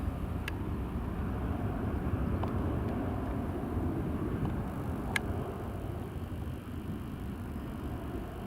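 Embraer 190 jet at Newcastle International Airport, a steady low engine rumble heard from a distance with a couple of faint clicks.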